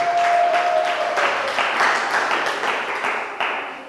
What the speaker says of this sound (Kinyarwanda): Komera Imana amashyi niba muri kumwe nanjye mu izina rya Yesu.